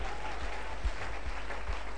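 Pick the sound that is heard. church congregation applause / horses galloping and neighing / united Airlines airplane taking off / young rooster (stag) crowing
church congregation applause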